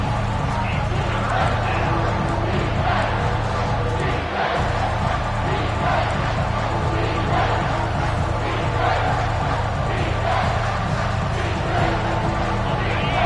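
Georgia football stadium crowd roaring, a dense, continuous wall of cheering and noise from a huge audience, loud and sustained, with a commentator talking over it.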